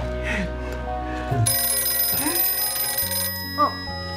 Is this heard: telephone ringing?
yes